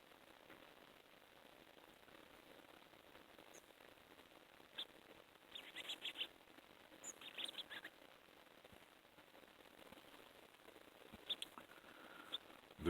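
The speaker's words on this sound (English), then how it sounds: "These are handsome little finches." Finches chirp at a seed feeder, with nuthatches nearby. The chirps are faint and sparse, with short bursts of tweets in the middle of a quiet outdoor background.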